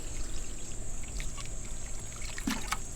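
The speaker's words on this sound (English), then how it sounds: "That's why I water every time when I plant something, and this way I water." Water poured into a heavy potted fig tree, a steady close trickle and splash running throughout with a brief sharper gurgle near the end.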